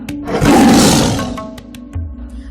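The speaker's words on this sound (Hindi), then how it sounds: "शेर उससे बाहर आ गया। बाहर आते ही वह जोर से दहाड़ा" A lion lets out a single loud, rumbling roar that swells and fades over a couple of seconds, close and alone.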